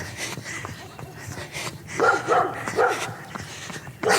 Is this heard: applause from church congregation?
no